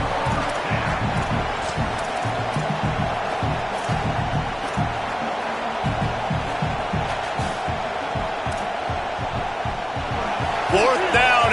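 Stadium crowd at a college football game roaring steadily on fourth down, a dense continuous din with thumping and stomping under a commentator's voice.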